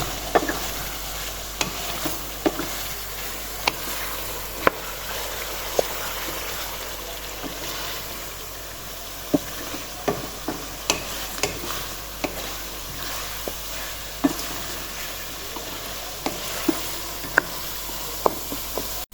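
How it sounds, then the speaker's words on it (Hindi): Masala for a desi chicken karahi fries in oil while being stirred, a continuous close sizzle broken by regular scraping clicks of the spoon against the pan, with no voices. "हमने इसको कितना अच्छा भून लिया। मसाला बिल्कुल गायब हो गया, सिर्फ ऑयल रह गया"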